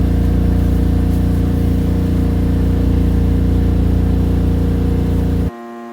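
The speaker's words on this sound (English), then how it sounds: "the gas furnace kicks in instead of the heat pump, and it is noisy" An RV camper's gas furnace runs noisily, a loud, steady mechanical roar with a low hum droning continuously, then cutting abruptly to a quieter residual whine near the end.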